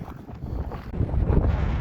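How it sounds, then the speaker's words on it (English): Strong wind buffets the microphone at the base of the Athabasca Glacier in the Columbia Icefield, a loud, steady roar that swells in the second half with gusty low rumble and no voices. "it's very windy up here"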